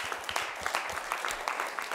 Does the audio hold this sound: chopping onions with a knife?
no